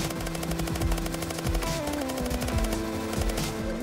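Rapid automatic gunfire from a weapon in the Roblox game Zombie Rush, with dense bursts of shots repeating steadily over game music and effects for nearly four seconds.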